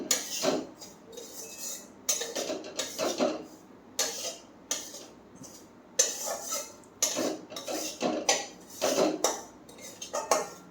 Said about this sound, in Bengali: একটু লাল লাল করে ভাজি